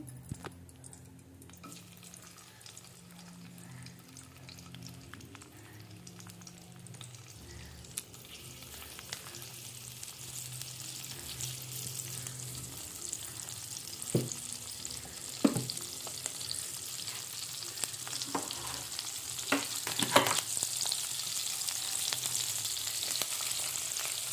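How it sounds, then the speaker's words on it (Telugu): Eggs fry in two spoons of oil in a pan, a quiet, gradually building sizzle with scattered pops and a few soft clicks of a utensil, growing louder toward the end, with no talking. "టూ స్పూన్స్ ఆయిల్ వేసుకుని ఎగ్స్ బాగా వేయించుకోవాలి"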